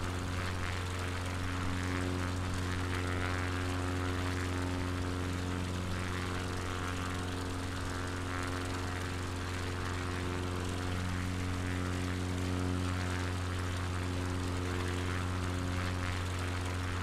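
Propeller airplane engine in MS Flight Simulator on a Patagonia bush trip, a steady, loud droning hum with strong tonal harmonics that holds constant throughout with no talking.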